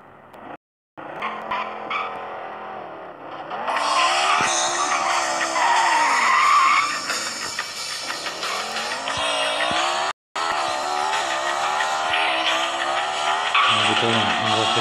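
A car in Extreme Car Driving Simulator roars and skids loudly, its engine note rising and falling under long squealing tire slides, with brief cut-outs and a sharp crash-like break partway through, while a voice talks over it.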